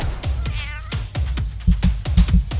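A cartoon cat meows repeatedly in short, loud cries with a quick rhythm. It sounds close, with brief other noises between the meows.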